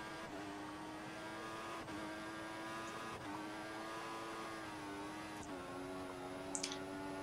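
Steady high whine of a McLaren Formula 1 car engine in F1 2014 at Sepang qualifying on a slippery track, holding constant pitch with brief dips between gears, moderately loud and continuous, with faint clicks.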